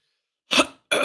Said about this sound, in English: Ooh, gotta clear my throat.